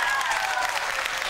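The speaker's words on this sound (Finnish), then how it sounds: "Annetaan oikein huikeat aplodit näille meidän ihastuttaville kilpailijoille" Brief burst of audience applause for contestants at an accordion championship show, a continuous wash of many hands clapping with a voice faintly audible over it.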